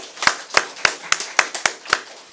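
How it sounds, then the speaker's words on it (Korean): Church congregation at a Sunday worship service claps to welcome a first-time visitor, about eight distinct, evenly spaced claps in a loose rhythm, moderately loud in a room with little else heard. "우리 박수로 환영하겠습니다."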